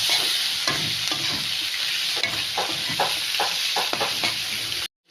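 Dried fish bhuna being stir-fried in a pan with turmeric and salt, a constant close sizzle punctuated by repeated scraping strokes of the spatula, ending in an abrupt cutoff.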